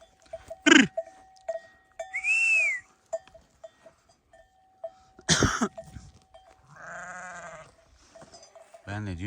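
Several sick sheep bleat at intervals in the mountains, some close and some further off, with quiet knocks and shuffling in between.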